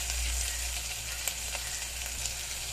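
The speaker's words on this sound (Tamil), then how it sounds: "வீட்லேயே அரைச்ச இஞ்சி பூண்டு பேஸ்ட் போட்டு நல்லா வதக்கிக்கோங்க" Homemade ginger garlic paste sautéing in a pan for Kovai chicken biryani, a steady close hiss of frying with a few faint stirring clicks, no talking.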